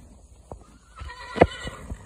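Horse at a barn giving a short neigh with a few faint snorts and thumps around it, moderately close and fairly quiet, with no talking.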